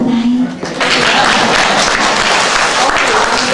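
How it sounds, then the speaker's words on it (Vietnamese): Applause fills a book launch event, a dense steady wash of clapping from a gathered audience that holds loud for several seconds, with a voice briefly audible near the start. "Vỗ tay."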